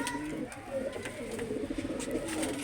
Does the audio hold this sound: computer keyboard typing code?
no